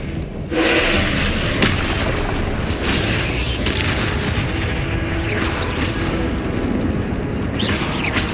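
Combat spell blasts in the video game Hogwarts Legacy, Confringo and Incendio fire spells: repeated booming explosions and whooshing bursts over a dense rumbling battle backdrop, loud and close, with bright shimmering chimes layered in.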